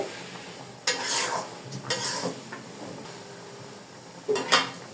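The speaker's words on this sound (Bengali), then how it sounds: "বাঁধাকপিটাকে আমি এভাবে ভাজা ভাজা করে নিয়েছি, নিচে লেগে যেতেছে" Cabbage stir-fried in a pan, sticking to the bottom, with a few distinct scraping strokes of a spatula over a low sizzle, no talk.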